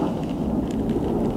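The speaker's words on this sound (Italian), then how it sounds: "fuori impazza il temporale," A thunderstorm rages outside, heard indoors as a steady low rumble with dense rain noise, continuous and fairly loud, with no talking.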